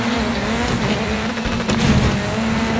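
A rally car engine in the Dirt 4 racing game drones and revs steadily with a strong buzzing tone throughout, loud and continuous, with brief surges and a hint of tire noise.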